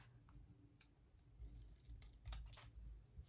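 Scissors snip off excess paper hanging over the edge of a papercraft piece, a few quiet, crisp cuts and clicks spaced irregularly in a near-silent room.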